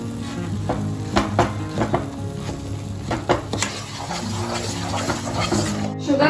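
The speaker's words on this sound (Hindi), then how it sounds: "अब शुगर को अच्छे से मिक्स करना है।" A spoon stirs sugar into a barfi mixture in a pan, making soft repeated scrapes and taps with a faint sizzle beneath, close and steady.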